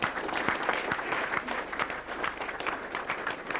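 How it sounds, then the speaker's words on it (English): Audience applause at the launch of a Gandhi photography exhibition in Australia, dense, steady clapping from a seated crowd that holds for several seconds with only a thin, muffled top end. "So a round of applause."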